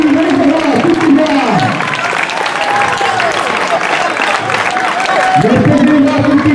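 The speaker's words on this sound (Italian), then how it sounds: "Un applauso a tutti!" An outdoor crowd at the Festagrossa 2022 village festival games applauds together for everyone, a dense sustained clapping with voices and shouts mixed in and a person talking over it.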